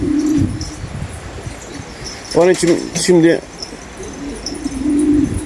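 Pet pigeons coo in a small windy village, two short bursts of throaty rolling calls close by, with someone speaking before and after.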